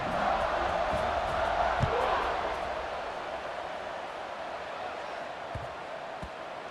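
A football stadium crowd at Ohio State versus Coastal Carolina roars steadily before kickoff, loud at first and easing slightly, with a few faint thumps in the din.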